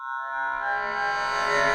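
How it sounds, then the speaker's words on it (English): A ring modulator effect on the Korg Wavestate Native software synth turns a sustained tone into a dense, metallic, inharmonic buzz that swells slightly louder over a couple of seconds, heard alone without talking. "Ring modulator."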